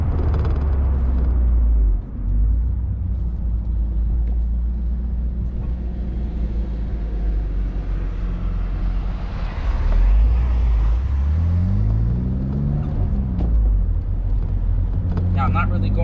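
A BMW Z3 2.3 sports car's engine drones steadily from inside the cabin, a low rumble that rises briefly as it accelerates, with faint road noise throughout.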